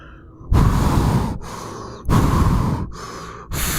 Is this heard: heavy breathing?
yes